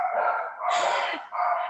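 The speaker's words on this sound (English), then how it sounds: "I apologize if you can hear dogs barking in the background." Dogs bark in the background of a city council meeting in Charleston, giving a quick run of close, sustained yelping barks with brief dips between them.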